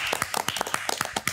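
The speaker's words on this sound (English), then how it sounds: "So we have given a round of applause." A quick burst of hand claps, a dozen or so sharp irregular slaps from a few people close by, with no voices.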